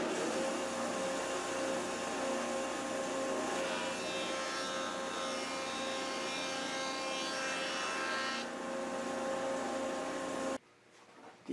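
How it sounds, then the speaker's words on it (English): A jointer planer runs continuously and loudly as a glued laminated wood board is fed through it, giving a steady whining roar that cuts off abruptly near the end, leaving quiet room noise. "I run the laminated board through the joiner planer just to clean up the glue"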